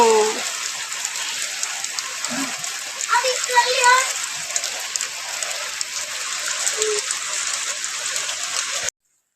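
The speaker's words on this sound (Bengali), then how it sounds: "আজকে দেখো কেবল বৃষ্টি হচ্ছে।" Heavy winter rain falls steadily, a constant hiss of drops pattering on surfaces, with a brief voice and a few splashes early on before it cuts off.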